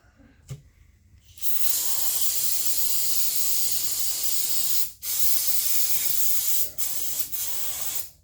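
A loud aerosol spray hisses in long continuous bursts, broken by a few short pauses, close to the microphone, spraying down the carburetor of a Stihl chainsaw.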